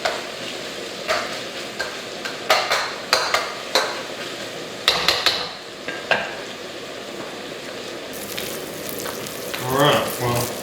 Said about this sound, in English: I think the meat's getting nice and crispy and done